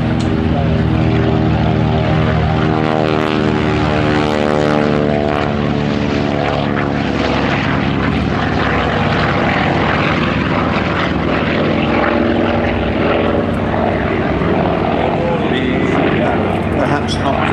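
A Grumman F8F Bearcat, a 1940s radial-engined propeller fighter, drones steadily at an airshow at Duxford, its loud engine tone continuous throughout with a person talking over it.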